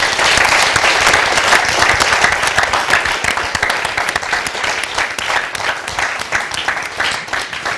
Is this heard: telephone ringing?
no